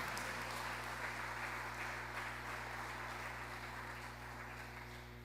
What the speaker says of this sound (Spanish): Denle un fuerte aplauso al Señor por la vida de este hermoso niño.